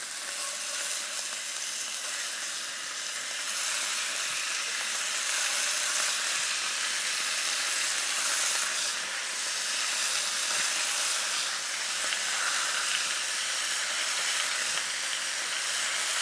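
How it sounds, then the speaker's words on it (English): Meat sears in a hot pan over high heat with a little olive oil, giving a steady, loud broadband sizzle and hiss that holds evenly throughout with no talking. "nice hot pan, high heat, a little bit of olive oil. I'm going to get my meat in there."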